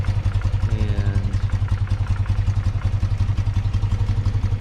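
A 1993 BMW R100GS motorcycle engine idles near 750 RPM, a loud close, steady low thumping pulse with even rhythm and light mechanical clatter.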